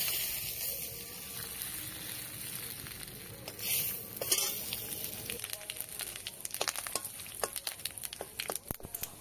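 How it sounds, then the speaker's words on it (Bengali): Cumin seeds and bay leaf tempering in hot oil give a steady, close, crackling sizzle that fills the clip, with sharper pops and spits growing more frequent toward the end. "জিরে তেজপাতা ফোড়ন দিলাম।"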